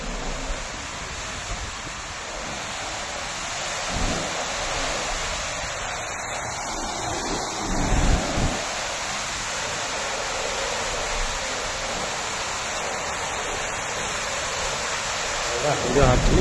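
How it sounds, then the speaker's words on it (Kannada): The Saraswati river rushes through a rocky Himalayan gorge near the China border, producing a steady, unbroken roar of water that fills the whole stretch with a few brief low thumps. "ಇದು ಆಕ್ಚುಲಿ ಸರಸ್ವತಿ ನದಿ."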